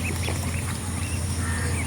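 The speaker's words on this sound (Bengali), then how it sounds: "দেখতে পাচ্ছেন আমার চীন হাঁসের বাচ্চারা" Chinese duck ducklings quacking close by, a busy overlapping chorus of short calls over a steady background hum.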